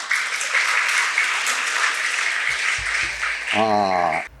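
Children at a Ramakrishna Math summer camp clap loudly together in a steady, dense burst that lasts several seconds. A voice rises over the clapping near the end.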